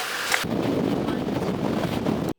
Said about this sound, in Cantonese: 勁大風啊，好凍啊！